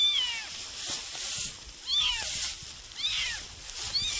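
A stray kitten meows repeatedly, about four thin, close, rising-and-falling cries spaced roughly a second apart over a soft background hiss.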